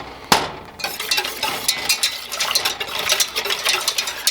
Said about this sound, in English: Whisk our cornstarch mixture back in.